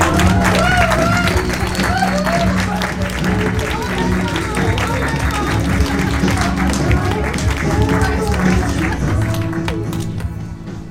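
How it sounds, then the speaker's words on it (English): Wedding guests at a reception give the couple a round of applause, a dense sustained clapping wash with cheers and chatter mixed in, steady and loud throughout before easing slightly at the end. "Another round of applause for Lena and Paymon."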